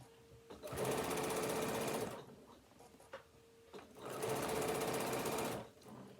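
A sewing machine stitches fabric for a tablet holder in two long, loud, even bursts of rapid whirring, separated by a short pause with small clicks.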